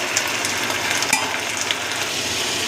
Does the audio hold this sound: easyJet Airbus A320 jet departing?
no